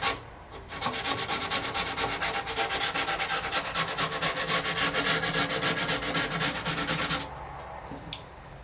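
Steady rhythmic rubbing of sandpaper on a wooden guitar binding edge, rounding it over, close and loud, in quick even back-and-forth strokes for several seconds, then stopping.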